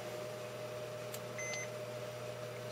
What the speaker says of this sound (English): So we get the beep